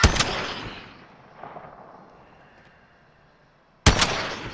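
Gunfire in Call of Duty: Modern Warfare, with a sharp, loud shot at the start that decays into a long fading tail, then a second close, loud burst near the end.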